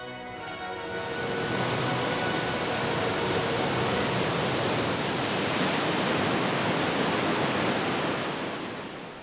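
Water pouring over a dam or waterfall, a dense, continuous roaring rush that fades in over the first second and holds steady and loud before easing at the very end.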